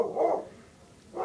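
Dogs in a video game give two short, soft barks, one early and one at the end, separated by a brief quiet gap, faint and with no talking.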